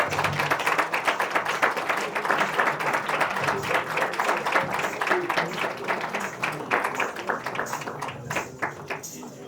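A crowd claps for a dancer at a live show, many sharp hand claps in a steady, continuous stream that stays loud and close before thinning slightly near the end.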